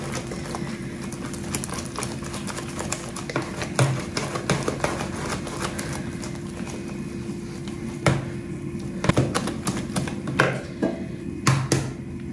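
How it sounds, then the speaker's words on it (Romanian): Cookie dough for raisin cookies whisked by hand in a bowl, giving uneven clattering taps and scrapes of the wire whisk at close range with no talk. "Acum vreau să iau telul, să văd dacă pot să amestec acum cu telul."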